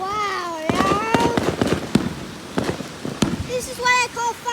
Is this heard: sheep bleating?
no